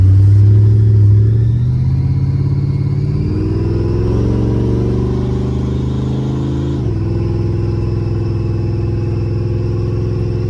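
A 1967 Chevy V8 with a 671 blower at 10 psi boost, aluminium heads, 580 lift cams and 650 double-pumper carburettors revs loud and close, climbing in pitch, then holding a steady rumbling idle.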